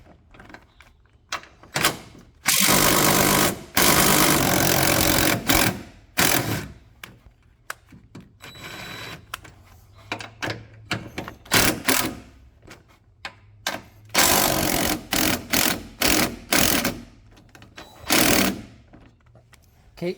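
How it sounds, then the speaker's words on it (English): An impact tool on a 2003–2012 Range Rover L322 backs out three 16 mm top strut bolts during a front air strut replacement, loud rattling bursts of a few seconds each with short pauses between them. "Okay, so I'll get those 3 bolts out."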